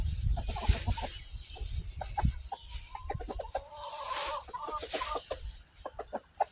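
Chickens cluck in a muddy backyard chicken run, a busy scatter of short calls near and far, with one longer rising call partway through, over steady outdoor background noise.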